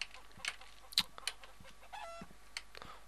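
Chickens cluck in short, scattered bursts against a quiet backdrop, with a few sharper squawks mixed in, in the farming video game Professional Farmer 2014.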